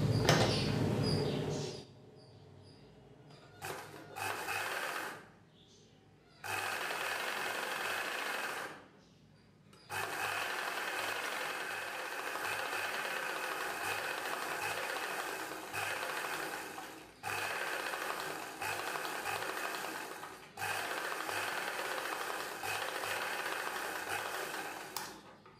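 A sewing machine hums and whirs steadily in several long runs, stitching piping onto a silk saree blouse back piece, with brief quiet gaps between stitching passes.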